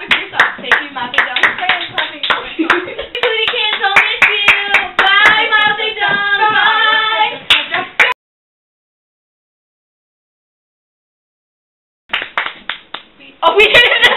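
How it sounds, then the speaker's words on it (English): Hand clapping at a small online gathering, bursts of claps mixed with overlapping talk and laughter, then a few seconds of silence before more claps and voices return. "You're clapping for yourself."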